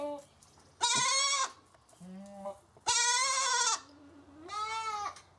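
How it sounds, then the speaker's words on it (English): Recorded goat bleats play in several loud, long, wavering cries with short gaps between them, and one quieter low bleat sits among them. "had to play the goat sounds"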